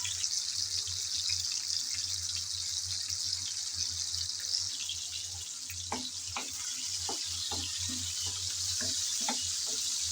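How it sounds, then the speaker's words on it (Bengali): Whole spices fry in oil with a soft, steady sizzle, fairly quiet; about midway, a run of light rhythmic scrapes and taps comes in as they are stirred around the pan. "2-3 মিনিটের মতন নেড়ে চেড়ে একটু ভেজে নিলে হবে।"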